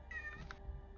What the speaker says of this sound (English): Oh, I heard a cat.